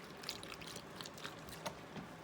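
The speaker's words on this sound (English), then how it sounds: "I'm going to take my beef broth and I'm going to throw it in here" Beef broth poured into a slow cooker for a pronghorn roast, a faint trickling, splashing stream with a few small louder splashes, quiet and continuous with no talk.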